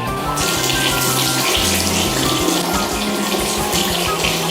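A tap runs steadily while water splashes in rhythmic handfuls as a face is rinsed at a sink after cleansing, loud and close.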